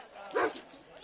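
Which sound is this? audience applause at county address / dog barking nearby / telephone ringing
dog barking nearby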